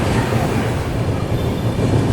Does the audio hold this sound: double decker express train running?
yes